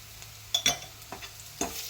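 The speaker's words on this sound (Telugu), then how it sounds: "పచ్చివాసన పోయేంత వరకు అల్లం వెల్లుల్లి పేస్ట్ని కాసేపు నూనెలో వేగనిద్దాము" Ginger garlic paste frying in oil in a pan: several sharp spatula scrapes and stirring clicks sound close up over a low, quiet sizzle.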